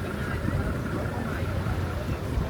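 A tour boat engine drones steadily at sea off Krabi, a continuous low rumble mixed with wind and water rush, close and even throughout.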